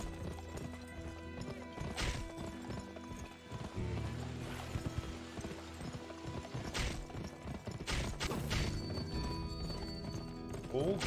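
A horse gallops in the Western video game GUN, rapid rhythmic hoofbeats with occasional neighs over game music and effects, while a player talks over it.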